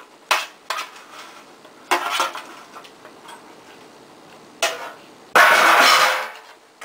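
Cream cheese cannonballs go into a pan of simmering sauce, making several clunks and clattering knocks with quieter gaps between them and a louder, longer burst near the end.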